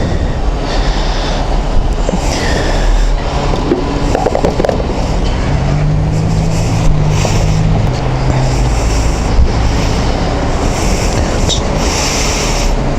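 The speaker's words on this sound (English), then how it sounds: "There's an electric bus making a really weird sound." An electric bus gives off an odd low humming drone at a petrol station, heard within loud, constant traffic and road rumble that fills the whole stretch.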